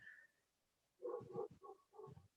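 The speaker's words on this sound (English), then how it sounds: "the German Shepherd who lives upstairs" A German Shepherd upstairs gives a few muffled, distant barks and whimpers in a short burst, faint and indistinct behind walls, with no talk over it.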